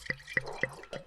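White wine poured into a glass at a winery show: four distinct close splashing glugs in quick succession, loud and clear with no talk.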